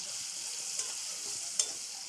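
Potato sabzi with turmeric and salt sizzles steadily in the pan while being stirred and mixed, with two soft spoon taps against the pan standing out over the close, even hiss.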